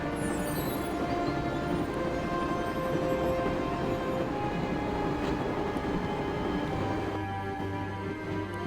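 Steady rumble inside a train in the video game Broken Sword: Shadow of the Templars, a continuous even drone with faint rattling and no talking.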